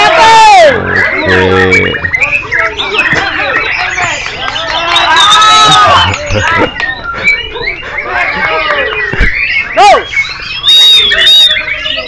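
Songbirds sing at an outdoor bird-song contest in Singkil, a near, loud stream of varied chirps, whistles and trills overlapping one another, with voices talking at times in the mix.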